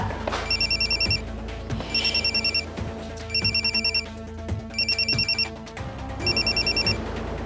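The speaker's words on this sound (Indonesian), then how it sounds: "Arga, angkat teleponnya dong." An electronic telephone rings in repeated short trilling bursts, five in a row separated by pauses, moderately loud against a low dramatic music bed from a TV drama scene.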